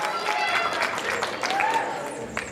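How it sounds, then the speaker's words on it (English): An audience applauds and cheers for a performer taking a bow during an improv comedy game, with steady broadband clapping and some crowd noise throughout, loud and sustained. "If you wouldn't mind giving a big round of applause for Madam Red"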